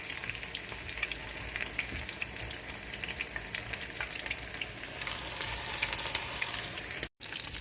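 Food coated in cornflour fries crisp in hot oil with a steady, dense crackling sizzle that grows slightly louder toward the end, with no voices present.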